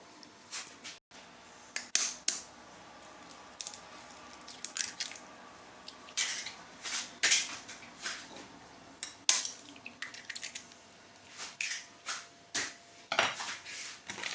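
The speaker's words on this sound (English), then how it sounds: "I'm gonna mix it, turn it very well until it's soft and smooth" Egg being mixed into homemade chocolate chip cookie dough in a bowl, with a spoon clinking and scraping against the bowl in uneven bursts and soft squishy stirring between, close and moderately loud, no talking.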